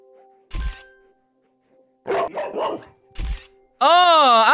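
Dog barking in an animal shelter simulator video game: a few separate, close barks and yips in the first half, with a voice speaking between them and a tonal game sound at the end.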